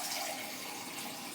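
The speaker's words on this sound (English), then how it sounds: "we're gonna put some water into the pot like this" Water poured into an empty medium-sized cooking pot, a short, soft, continuous splashing stream heard close and alone.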